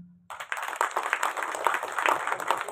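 A crowd at a Telugu movie trailer launch event claps hands together, a brisk, dense patter of many claps that starts after a brief quiet moment and continues steadily at moderate distance.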